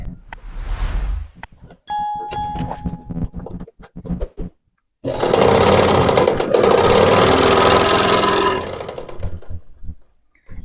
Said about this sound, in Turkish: Evet gördüğünüz gibi bu şekil çiftliğine dikişi yapıyor bu makine.